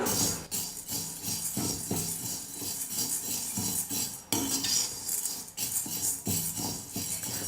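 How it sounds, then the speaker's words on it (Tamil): Chana dal dry-roasts in a pan over a medium flame while a spatula stirs it, giving repeated close scraping strokes and light rattling clinks of lentils against metal in an uneven rhythm, without speech. "நம்ம கடலைப்பருப்பை நல்லா வறுத்துக்கலாம்"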